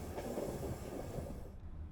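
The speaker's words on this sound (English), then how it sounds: "Our train continues to climb into the mountains as we are currently passing over the highest section of the line." Night train in Romania climbing through the mountains, passing over the highest section of the line: a steady, muffled rolling rumble heard from inside the carriage, fairly quiet, with no one talking.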